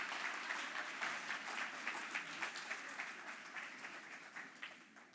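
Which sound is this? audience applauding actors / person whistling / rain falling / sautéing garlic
audience applauding actors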